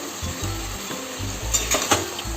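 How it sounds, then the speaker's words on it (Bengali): Rohu fish pieces going into hot oil in a pan, a steady close sizzle with a few sharper pops and clinks of a utensil, fairly loud and with no voices. "এবার আমি এই যে মাছের পিসগুলো আছে না সেগুলো অ্যাড করে দেবো"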